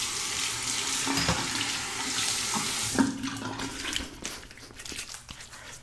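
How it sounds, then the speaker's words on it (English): Water runs steadily from a bathroom faucet while a Parker Variant adjustable open comb safety razor is rinsed under the stream, giving a close, splashing hiss with small shifts as the blade passes through the water. "Just a little cleanup and then rinse."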